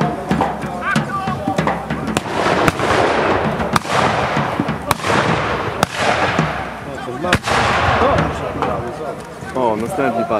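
A string of sharp, loud gunshot or blank-shot cracks at a military show at Modlin Fortress, irregularly spaced through the clip, with people talking and a noisy crowd throughout.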